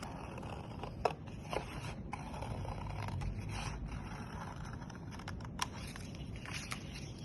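Scissors snipping a circle out of paper for iris folding, a series of soft irregular crisp cuts over low background noise, close by.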